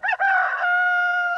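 A rooster crows once in a loud, close cock-a-doodle-doo lasting over a second, with a short break after the opening note and then a long steady final note, sampled into a hardcore electronic music mix.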